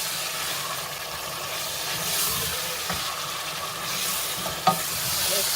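Ghana stew base frying in a pot, a steady hiss of sizzling with occasional stirring scrapes and clinks, moderately loud and close with no talking.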